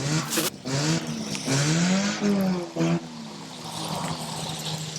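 Stock cars accelerate hard on a big, fast British oval at the start of a race, engines revving and rising in pitch as several cars roar past close by.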